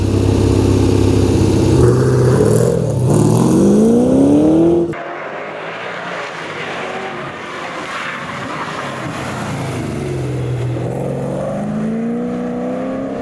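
A Corvette race car with a 6-litre LS2 V8 and showroom-stock setup roars on a tarmac rally stage, its loud engine rising through revs and shifting, then dropping to a lower steady drone as it pulls away.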